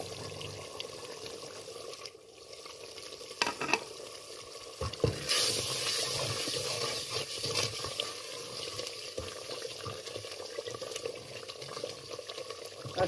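Masala fries in a pan, moderately loud with a constant hiss, a louder burst of sizzle partway through, and light scraping from stirring, with no voices.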